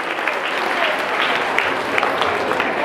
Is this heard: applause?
yes